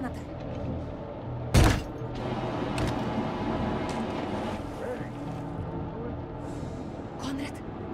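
A motorboat engine in the video game The Dark Pictures drones steadily with a low rumble and splashing water, broken by a loud thump early on, while voices talk over it.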